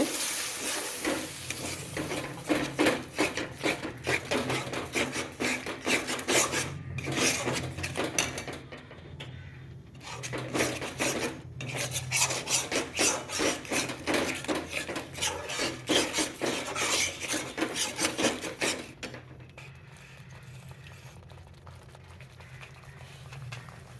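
Spice paste and yogurt with a little milk are stirred and scraped in a hot pan, a rhythmic rasping of the utensil against the metal over a low sizzle, with a couple of brief pauses before it settles into quieter frying.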